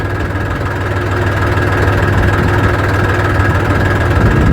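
A tractor engine runs steadily in a field while it lines up along a marked row, a loud continuous low diesel rumble and whir with a faint vibration, holding constant throughout with no talking.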